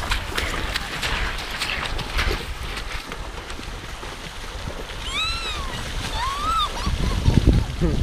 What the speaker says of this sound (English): There's Bruno's getting splashed.